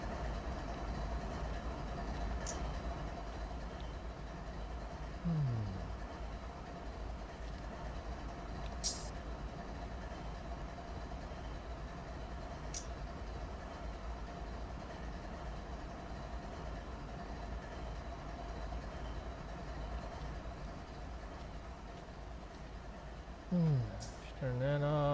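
BNSF freight train in the Run8 train simulator game, climbing Cajon Pass: a steady, continuous low diesel engine drone with rail rumble, broken by a few brief horn-like tones, playing throughout.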